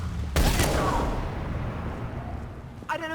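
Gunfire in the Mass Effect video game: a short burst of sharp shots up front, then a long rumbling decay, with a voice breaking in at the end.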